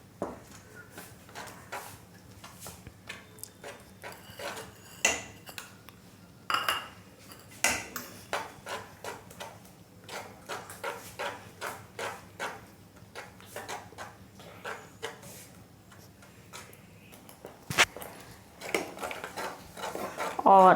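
A spoon stirring mango laddu mixture in a metal pan, repeated clinks and scrapes in an irregular rhythm, close and fairly clear, with a few louder knocks.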